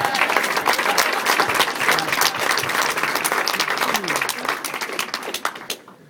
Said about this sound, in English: Let's all give them applause